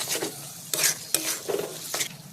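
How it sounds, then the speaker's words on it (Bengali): Spiced pav bhaji vegetables with capsicum sautéing in a pan, a spoon stirring and scraping in several bursts over a soft sizzle, close and moderately loud, with no talk. "দিয়ে মশলা ভালো করে আমি কষিয়ে নেব"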